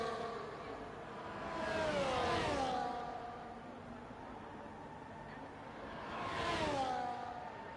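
Two F1 race cars in the F1 24 video game at the Brazilian Grand Prix sweep past one after another, high engine whines rising and falling in pitch as they overtake, fairly quiet with no talk.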